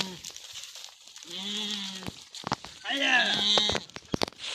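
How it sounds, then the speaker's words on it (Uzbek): Sheep at a livestock market give two loud, close, wavering bleats, one early and one longer near the end, among light footstep crunches and background voices. "Ana qo'ylarni qaranglar."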